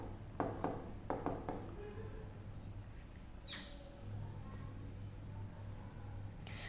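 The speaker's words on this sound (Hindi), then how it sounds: "चलो लिखूं, ओके लिख देते हैं" Marker or chalk strokes on a board during a geography lesson, a few quick scratchy strokes early on and then a longer squeak, close and clear over a steady room hum.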